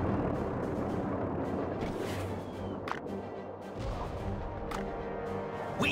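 Cannons firing in the World War Armies video game, several sharp booms and crashes spaced through a dense, rumbling battle din with no voices heard.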